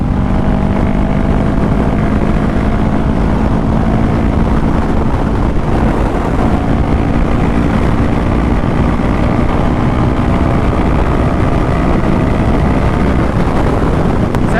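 A 2020 Honda CBR500R sport bike's engine drones loudly and steadily under heavy wind roar, with a constant engine tone and no voices.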